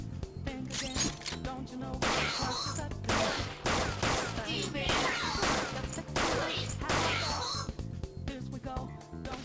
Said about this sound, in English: You can continue shooting until you run out of ammunition.